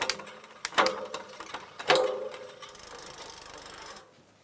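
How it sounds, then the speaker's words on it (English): E-bike crank turned by hand while the derailleur is shifted down through the gears of a QuietKat, giving a run of clicking, whirring mechanical ticks with a few sharper clacks, close and fairly quiet. "we'll go ahead and turn the crank and shift it all the way down"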